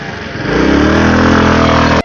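A motorcycle engine pulls away as the rider sets off, a close, loud, rising drone that holds for about two seconds before cutting off abruptly.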